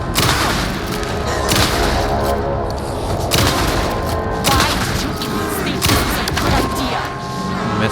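Gunfire in the Alan Wake 2 game, The Lake House DLC: a run of loud, close shots bursting in clusters and irregular bursts over a dense, rumbling game soundscape, with no voices in between.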